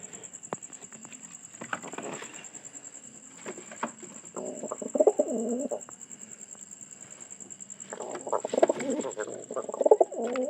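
A single pigeon coos in two clear rounds of low, throaty calls, one in the middle and a longer one near the end, fairly close, over a faint steady high whine.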